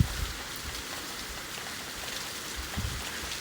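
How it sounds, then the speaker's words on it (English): Hail pelting down in a spring storm at night, a steady dense patter that stays even and fairly close throughout with no voices. "And now, as you can hear, it's hailing."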